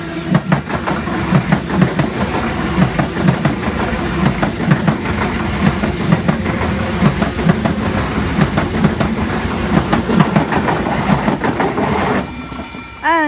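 Train pulling into the platform at Wondabyne Station, New South Wales, loud and close, with a steady rumble and rhythmic clickety-clack of wheels that continues, then a short squeal of brakes near the end.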